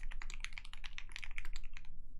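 Rapid, muted typing on a Polaris mechanical keyboard fitted with Gateron Ink switches, a dense, steady run of soft keystrokes heard close up with no talking.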